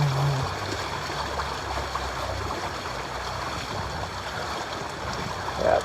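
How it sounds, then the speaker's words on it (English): Wind gusting over a sailboat on Lake Washington, a steady, full rushing roar mixed with water noise that holds at an even level throughout, close and continuous. "You hear that wind rattling through the sails."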